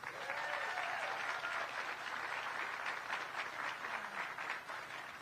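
A crowd at a groundbreaking ceremony in Goodyear breaks into sustained applause for the city manager, with dense, even clapping at moderate distance that stays steady for several seconds.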